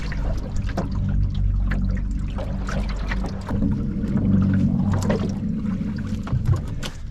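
A wooden dinghy drops into the water beside a wooden liveaboard boat and floats, with a low, steady wash of sloshing and trickling water and faint knocks of the hull rocking, fairly close and continuous for several seconds.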